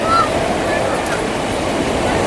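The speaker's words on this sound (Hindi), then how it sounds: "यहाँ पर जल का उफान देखिए। समुद्र से ऊंची लहरें तो यहीं पर माँ गंगा के जल में निकल रही है।" Surging waves of the swollen Ganges river at a ghat in Haridwar during rain, a steady loud roar of rushing water with no pauses.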